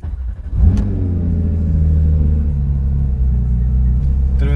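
A car with forged wheels and a chessboard-pattern finish cranks and fires up with a sharp starter burst, then settles into a loud, deep, rumbling idle with a light rev. It is close and steady, with no talking.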